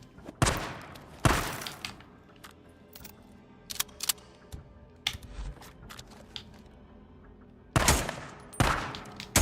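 Gunfire from the Days Gone video game, loud close blasts at irregular intervals with a few sharper cracks and clatter between them over a low background rumble.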